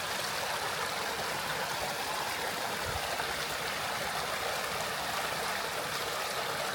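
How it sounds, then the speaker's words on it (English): The Blackbrook River in Sankey Valley flows as a steady, broadband rush of moving water, a constant close hiss and burble with no breaks and no speech. "So this is the river. Blackbrook River."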